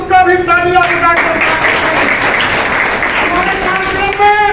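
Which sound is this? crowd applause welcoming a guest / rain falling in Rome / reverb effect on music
crowd applause welcoming a guest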